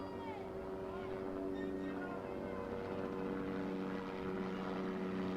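A helicopter flies over a ballpark during a youth baseball championship game, its steady rotor drone humming continuously through the scene while people talk over it.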